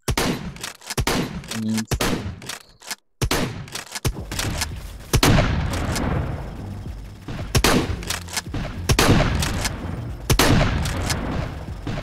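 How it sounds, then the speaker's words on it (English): Repeated heavy shotgun blasts in the VR game XLR, spaced a second or two apart, each a loud close crack with a booming tail, broken by a brief silent gap near the start. "All right, the next one is the shotgun."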